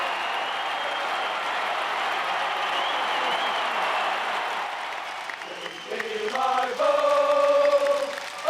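A big arena crowd applauds and cheers in a dense, steady roar that swells louder near the end, with a speaking voice breaking in over the noise.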